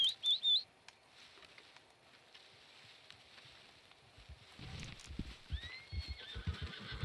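A horse in Red Dead Redemption 2 gives a loud, shrill whinny at the start, then its hooves clip-clop closer at a trot over quiet outdoor ambience, with faint bird calls near the end.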